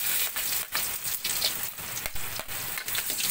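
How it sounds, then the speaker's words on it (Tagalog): Garlic added to hot cooking oil crackles and sizzles up close, a bright, spattering hiss broken by repeated short bursts and pops. "Lalagay na natin ang ating bawang."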